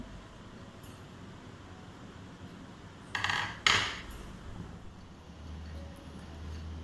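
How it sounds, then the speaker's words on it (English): A glass rod stirs a heating solution in a china dish on a wire gauze, with two short bright clinks of glass against porcelain midway over a faint steady background. "During heating, we will stir the solution with a glass rod to avoid the formation of crust"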